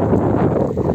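Wind gusting on a cold mountain trail on Gunung Kawi, heading toward a descent, with a steady, loud broadband rush and buffeting close against the microphone, no voices.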